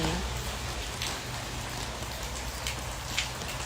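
Steady rain falls on frangipani flowers and garden plants, a dense even patter close by with a few louder drips standing out.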